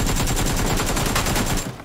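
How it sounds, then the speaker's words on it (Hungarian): Sustained rapid gunfire in an Xbox Series S/X video game during a solo tournament match, dense overlapping bursts rattling without pause for nearly two seconds before trailing off at the end. "hallja közben gazdag Norbertnak a lövéseit"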